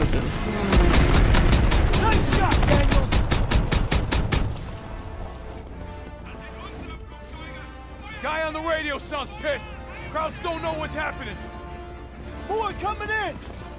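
Rapid gunfire from Call of Duty WW2 gameplay hammers out in a loud, fast burst of evenly spaced shots for a few seconds, then stops, after which someone talks over faint background rumble.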